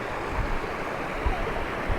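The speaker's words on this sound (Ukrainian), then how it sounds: "Ну і центральна річка." A central river running through the town of Skhidnytsia gives a steady, broadband rush of flowing water, close and continuous, with low rumbles now and then and no talking.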